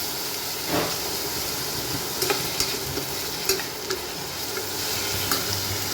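Onion sautéing on an induction cooktop set to sauté mode, giving a steady close sizzle and hiss with occasional stirring scrapes, with no talk.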